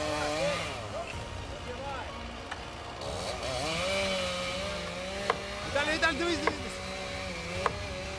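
A chainsaw cutting a tree buzzes and whines steadily, its pitch rising and falling as it bites, with a person talking over it and a few sharp knocks.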